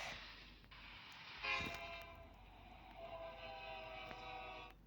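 In a video game, a train rumbles past with a faint horn-like tone and clanking. The noise is continuous, distant and fairly quiet, and there is no talk over it.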